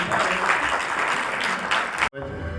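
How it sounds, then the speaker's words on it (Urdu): Audience applause at an art exhibition in a Lahore gallery, a steady close burst of clapping for about two seconds that cuts off abruptly, followed by quiet room tone. "تو ایک بھرپور کلیپ کریں ذرا آج اپنے لیے بھی"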